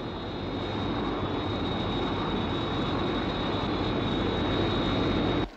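A military interceptor jet flies in the air during a UFO intercept, giving a steady, loud broadband roar with a thin constant whine that holds throughout and cuts off abruptly at the end.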